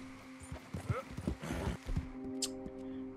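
A horse's hooves clip-clop in Red Dead Redemption 2, a close, irregular sequence of clops that thins out after a couple of seconds, with a faint whinny-like tone near the end.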